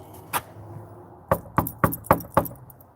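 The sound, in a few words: knocking on a door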